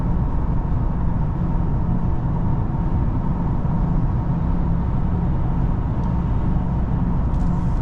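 Steady, loud road rumble from a car cruising on an interstate highway behind a semi truck, a continuous broadband drone of tyres and wind with no talking.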